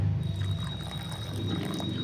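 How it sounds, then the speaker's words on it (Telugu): Lukewarm water poured into toor dal lentil chutney, a soft close trickling pour over a low steady hum, no talking. "ఒకేసారి ఎక్కువ పోయకుండా చూసుకొని పోసుకోండి"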